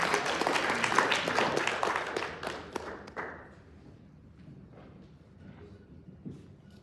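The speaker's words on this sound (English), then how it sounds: "how about one last round of applause for our two speakers" Applause from an event audience fills the first three seconds as a dense patter of many hands clapping, then quickly thins and fades into quiet room murmur with a few stray sounds.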